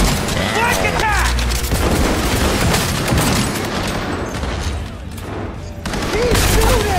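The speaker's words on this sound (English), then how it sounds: "He's shooting!" Dense, loud bursts of rapid gunfire and booming blasts in a Cyberpunk video game firefight carry on almost without pause, with overlapping voices shouting through the shooting.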